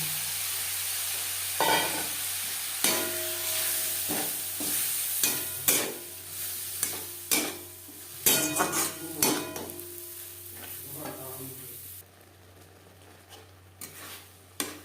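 Brahmi greens curry frying in a pan as a spatula stirs and scrapes in irregular clanks, with a soft sizzle underneath that drops away near the end.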